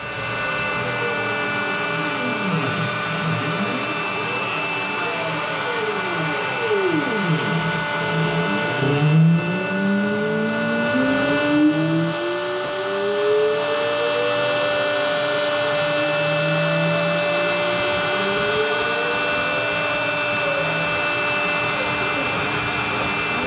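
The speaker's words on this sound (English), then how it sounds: "finishing up with that tool the contour of the guitar blank." A CNC machine cuts the contour of a guitar blank with a steady, loud mechanical whine throughout, its pitch rising and falling in sweeping glides as the tool moves along the curve.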